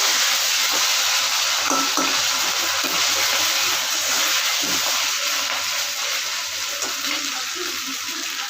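Ginger and spices fry in a pan, giving a close, continuous hiss and sizzle with faint scraping as they are stirred, and no voices.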